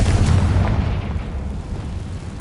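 A Confringo spell explodes in the Hogwarts Legacy video game, a heavy booming blast that hits hard at the start and then rumbles away over a couple of seconds.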